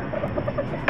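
A brooding mother hen sitting on her eggs clucks in a rapid run of soft, close, repeated notes with no other sound around them.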